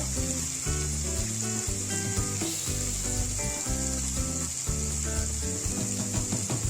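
Masala pulao with cashews and ghee sizzles in a pan, a dense, constant frying hiss close by with no talking, while background music plays underneath.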